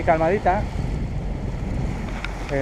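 A sailboat under engine power on a calm, windless sea near La Gomera gives off a steady low drone with wind buffeting the microphone, while a person talks briefly at the start and end.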